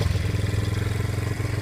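Yamaha Moto 4 80 ATV engine running at a fairly high idle, a low, steady pulsing putter with rapid regular beats throughout, close and alone.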